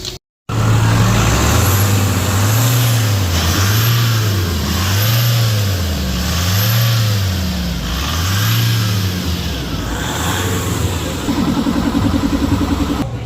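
A Nissan Navara engine just after EGR valve, intake manifold and throttle body cleaning, revved repeatedly in a steady rhythm of rising and falling surges over a running idle, loud and close, no voices.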